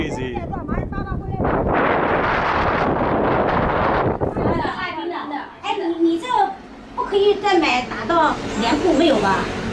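Strong wind buffets the microphone in heavy roaring gusts, easing off partway through as someone talks nearby.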